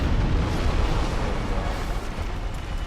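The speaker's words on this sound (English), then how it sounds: "Explosion." An explosion in the video game Dark Souls, a dense, loud, sustained roaring blast that fills the whole clip and fades slightly toward the end.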